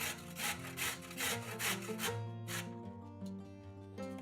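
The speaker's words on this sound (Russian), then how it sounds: "Одну морковь трем на крупной терке." Rhythmic rasping strokes of a carrot rubbed over a coarse grater, quick repeated scrapes over steady background music, then the grating stops.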